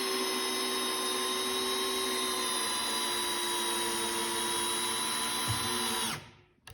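A Festool CXS cordless drill/driver drives a 4-inch #9 trim head screw, a steady high whine running continuously and loudly for about six seconds before cutting off abruptly.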